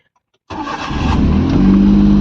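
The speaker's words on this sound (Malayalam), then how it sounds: "ഓക്കെ, അപ്പം ഞാൻ ഇനി സ്റ്റാർട്ട് ചെയ്യുകയാണ് വണ്ടി." A Maruti Alto LXi car, inspected for starting trouble, fires up on the first crank after half a second of silence, then settles into a loud, steady idle hum close to the microphone.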